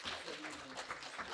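A church congregation applauds to welcome the pastor, a soft, distant patter of many hands clapping continuously.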